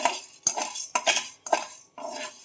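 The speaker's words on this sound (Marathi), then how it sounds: "बारीकच गॅसवर मी भाजते आहे चण्याची डाळ" Chana dal dry-roasting on a low flame, stirred with a spoon in a pan: five distinct sweeping scrapes with clatter, each a half-second rattle of dry lentils and metal, close and clear with no voices.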